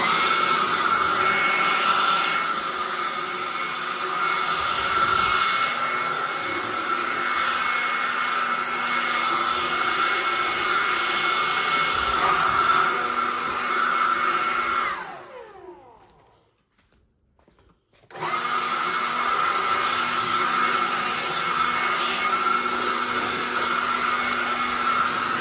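Sunjoe 24V cordless blower running steadily with a loud broadband whoosh while clearing debris in a garage, cutting out for a few seconds mid-run before roaring back at full strength.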